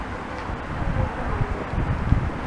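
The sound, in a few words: wind blowing on the microphone outdoors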